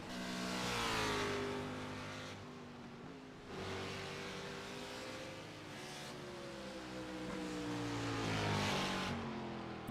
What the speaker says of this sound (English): Cars go around and turn their initial laps.